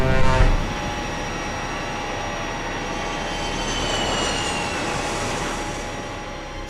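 A B-52 bomber takes off with a continuous, loud jet-engine roar and a rising whine, steady and unbroken throughout.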